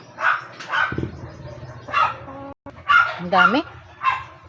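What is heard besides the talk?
husband's pet dogs barking in the backyard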